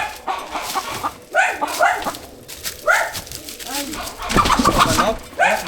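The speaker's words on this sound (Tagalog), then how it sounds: "Manok? Manok ba to?" Chicken clucking in short bursts on a farm, mixed with a dog's barks and outdoor noise, with people talking now and then.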